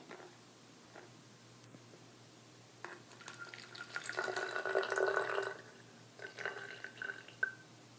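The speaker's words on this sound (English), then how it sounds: "now we're going to take 50 milliliters of water" Fifty milliliters of water is poured in a quiet room: a few faint drips, then a trickling stream that builds for a couple of seconds, stops, and returns briefly as a shorter splashing pour.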